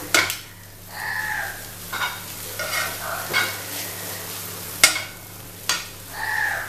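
Keema stuffing being stirred and tossed through noodles with two spoons in a pan, a close, steady run of soft scraping and clinking over a gentle sizzle, with no talking.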